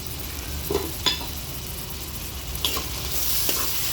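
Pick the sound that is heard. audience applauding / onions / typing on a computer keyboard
onions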